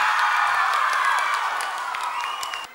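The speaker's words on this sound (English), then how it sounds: "How about another round of applause" Loud, sustained applause mixed with cheering and whoops from a large audience at a televised singing talent show, continuous and gradually easing toward the end.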